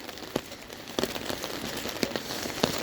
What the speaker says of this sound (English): I think that you can hear how much is raining, and it has been picking up every minute